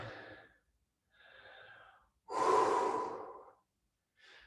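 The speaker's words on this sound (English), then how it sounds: "When you need to breathe again, inhale." Slow, audible breaths during yoga practice, a few soft airy inhales and exhales separated by short silences, with one longer, fuller breath near the middle; close and fairly clear.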